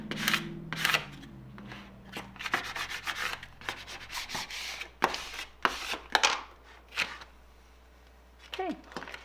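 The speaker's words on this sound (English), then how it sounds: "I'm going to go ahead and I'm going to burnish my vinyl down onto my sign here." Vinyl lettering is burnished onto a sign with close, scratchy rubbing strokes in irregular bursts, some quick and some longer, with a voice briefly heard.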